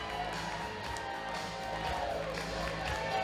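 A local crowd at a wrestling show cheers and claps, producing a busy wash of voices with scattered applause and music, steady and moderately loud throughout.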